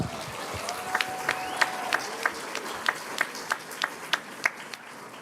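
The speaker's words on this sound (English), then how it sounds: "Give yourself a round of applause." A crowd claps steadily at a university attorney induction ceremony, sharp individual claps standing out over a dense wash of applause, with a faint tone briefly running underneath.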